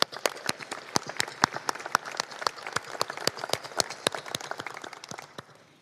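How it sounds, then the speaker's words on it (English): A small group applauds at a naval academy awards ceremony, the claps distinct and sharp rather than a dense roar, steady for several seconds before thinning out. "let's give them a round of applause now"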